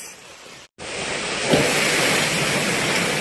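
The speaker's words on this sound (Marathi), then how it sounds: "हे बघा, आता घडघडान पाऊस येता मोठ्यान." Heavy monsoon rain pours down in a dense, loud hiss after a brief dropout, swelling slightly and holding steady with no talk.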